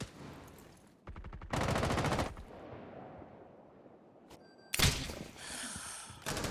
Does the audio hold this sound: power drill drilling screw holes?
no